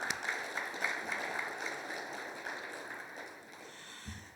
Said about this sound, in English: Now that deserves a huge round of applause